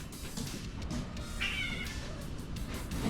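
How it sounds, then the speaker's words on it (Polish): Cats yowling and wailing in the mating season, a drawn-out cry rising mid-way over steady background noise, fairly close. "Koty marcują, Bodzio."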